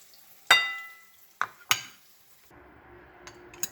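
Fried eggplant pieces mixed into yogurt in a bowl, with a few sharp clinks of a spoon against the dish followed by softer wet stirring and scraping near the end.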